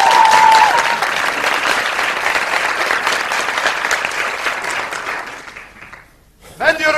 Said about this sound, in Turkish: Ona bu alkışlar lütfen.